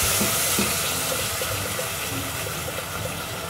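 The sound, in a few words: pouring two jars of peanut sauce into a saucepan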